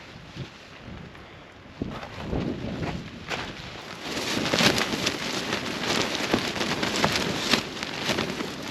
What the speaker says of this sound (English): Just waiting for these gusts to die down.